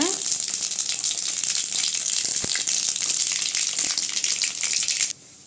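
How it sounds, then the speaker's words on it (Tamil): Dried red chillies frying in hot oil in a kadai after mustard seeds have spluttered, a steady dense sizzle running nearly five seconds with a couple of sharp crackles, then cutting off abruptly. "கடுகு வடிச்சிட்டு காஞ்ச மிளகா சேர்த்துக்கலாங்க"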